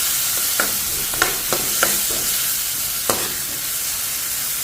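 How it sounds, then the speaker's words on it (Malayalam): Green chillies, curry leaves and ginger sizzle in hot oil for Kerala-style uppuma, with a spatula scraping and knocking the pan several times in an irregular rhythm over a steady, close frying hiss. "നമുക്ക് ബാക്കിയുള്ള പച്ചമുളകും കറിവേപ്പില, ഇഞ്ചിയൊക്കെ ചേർത്ത് ഇളക്കാവുന്നതാണ്."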